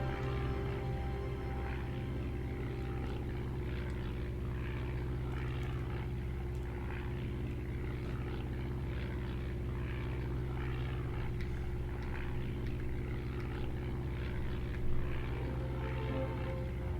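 World War I biplane engines drone in the flight game Over the Front, a steady low propeller hum with faint wavering overtones, continuous and even throughout, no talking over it.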